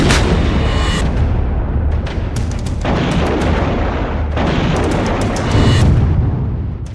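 Artillery cannons firing in the Ukraine-Russia war, loud heavy booms one after another with long rumbling tails, close and dominating the scene with no voices.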